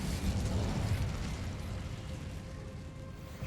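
Incendio fire spell in the video game Hogwarts Legacy, a rumbling fiery blast with a deep, sustained roar that slowly fades over a few seconds, loud and dense with no speech.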